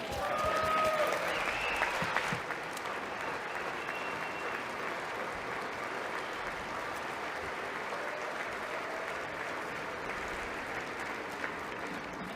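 Applause rises from a congressional audience, a dense sustained clapping that starts loud and settles into a steady, slightly quieter ovation, with faint voices mixed in.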